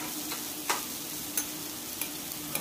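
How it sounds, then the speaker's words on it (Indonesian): Cornstarch mixed with water being stirred by hand for a beef and water spinach stir-fry, giving soft, faint scraping strokes with a few brief clinks of a spoon against the bowl, alone over steady background noise. "Kita mau aduk-aduk ya."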